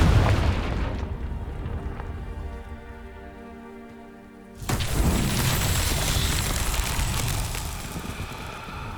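A Confringo blasting spell explosion in Hogwarts Legacy: a loud burst opens, then a fading tonal hum, then a second sudden blast leads into a sustained crackling, rain-like roar, close and loud, with no talking.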